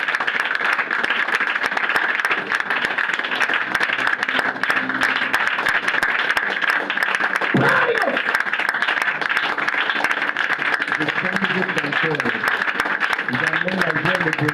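A church congregation applauds and cheers during a service, with continuous clapping going on under voices and singing throughout.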